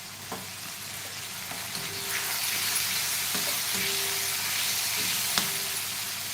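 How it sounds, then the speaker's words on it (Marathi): Masala for boiled egg curry sizzles and crackles steadily in hot oil, with occasional scraping stirs and clinks of a spatula against the pan. "मसाल्याला तेल सुटेपर्यंत आपल्याला परतून घ्यायचं आहे"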